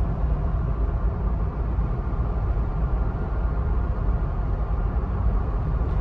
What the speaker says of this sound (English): It's a very windy day, so what you're hearing there is it's wind noise.